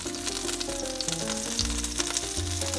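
Scallops searing in a hot pan, a steady close crackling sizzle throughout, with background music playing underneath and no talk.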